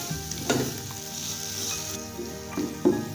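Tomato masala with fresh coriander frying and sizzling in a pan, a steady close hiss with occasional stirring scrapes and small bursts, no talking.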